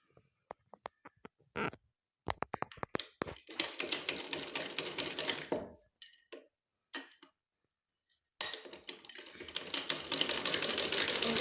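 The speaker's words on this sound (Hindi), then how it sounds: "तो हम अब सिलाई लगा रहे हैं" Sewing machine stitching warm socks, heard in quiet bursts of rapid ticking and running stitches separated by short pauses.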